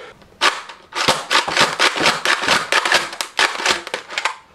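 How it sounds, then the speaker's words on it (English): A Nerf Elite Rough Cut 2x4 toy blaster slam-fired repeatedly, a rapid busy stream of sharp plastic clacks and pump rattles, loud and close without pause. "hopefully we can see what the slam fire is like"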